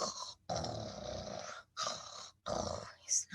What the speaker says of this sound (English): He's snoring already.